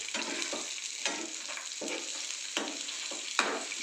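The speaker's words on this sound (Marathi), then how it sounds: "याला चांगलं छान मी परतून घेतो" Coconut and garlic chutney sautéed in a pan, with a steady sizzle broken by regular scraping stirs about every half second, close and alone.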